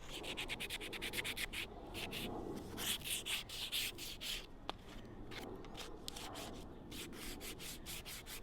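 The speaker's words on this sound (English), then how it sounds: "Back to sanding." Rhythmic back-and-forth sanding of a wooden atlatl, a steady rasping scrape repeating quickly and close by, with a brief pause midway.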